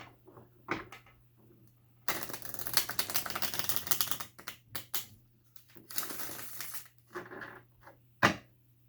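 Crisp papery tarot card shuffling comes in repeated bursts, a long riffle in the middle and shorter taps and slides around it, close up with no talking.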